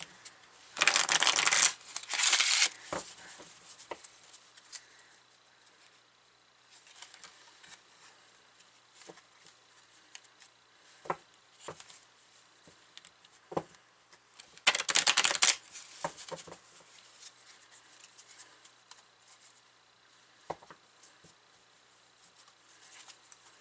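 Guardian Angel oracle cards being shuffled by hand, with two loud close bursts of riffling and softer flicking and tapping of cards between them, no talking.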